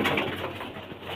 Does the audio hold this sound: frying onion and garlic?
no